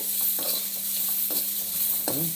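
Okra frying in a pan, a soft continuous sizzle with light stirring taps, close and steady, with a brief voice near the end.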